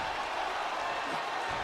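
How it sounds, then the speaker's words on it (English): Steady, dense applause from a large arena crowd in Indianapolis in a WWE 2K wrestling video game, with continuous clapping and no clear breaks, at a moderate level. "Or not chanting, clapping."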